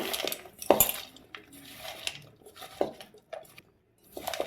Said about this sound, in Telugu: చక్కగా మొత్తం కలిసిపోయేలాగా ఇలాగైతే కలిపేసుకోవాలండి